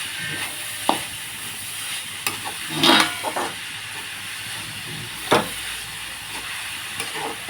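Momos frying in a pan give a steady broadband sizzle and hiss throughout, with a few brief louder crackles and spatters standing out; no talking is heard.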